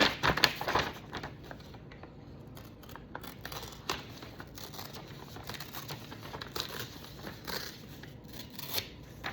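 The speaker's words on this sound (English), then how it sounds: "And then we're going to tear it off." Origami paper being torn along a firm crease to remove a flap, heard as a close, crackly rip with a sharper burst near the start and softer crinkling and rustling after it.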